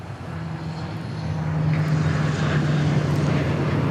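A Boeing 737 airliner landing at DFW Airport, its engine roar swelling from a steady rumble to a louder, sustained broadband drone with a low humming tone running through it.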